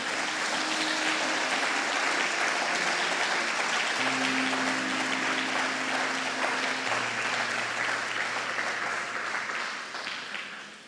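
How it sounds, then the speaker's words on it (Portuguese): A church congregation applauds in sustained, dense clapping that fills the room and fades slightly at the end, with a held organ or keyboard chord underneath. "Pode dar um salve de palmas para Jesus,"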